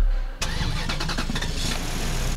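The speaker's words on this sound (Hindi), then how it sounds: "मिशिका गाड़ी स्टार्ट कर चुकी है" A car engine cranks and catches abruptly, then settles into a steady running hum with faint rattles, close and fairly loud, with no voices.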